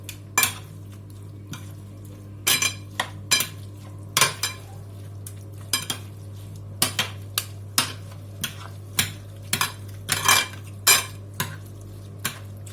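A spoon clatters and scrapes against a pan while a zucchini dish with pomegranate molasses is stirred, a series of sharp, irregular knocks over a quiet background with a faint low hum.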